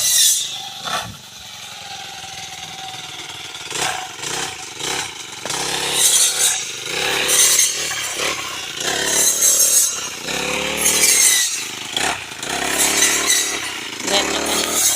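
A petrol grass trimmer cuts grass along the dikes of a rice field, its engine buzzing loudly and revving up and down close by across the whole stretch, with brief dips between bursts.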